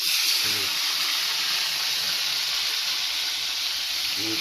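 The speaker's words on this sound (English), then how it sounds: "we just do some frying chicken and this is how it works" Pieces of home-fried chicken sizzle steadily in hot oil, a bright continuous hiss up close, with faint voices murmuring low underneath.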